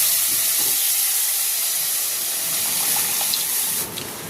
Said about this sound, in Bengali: এবার এর মধ্যে দিয়ে দিচ্ছি পরিমাণ মতন জল।